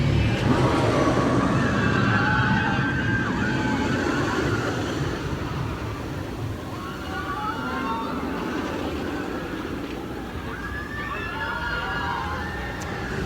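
A roller coaster at Islands of Adventure theme park roars past overhead, a broad rushing rumble that swells and fades, with crowd voices mixed underneath.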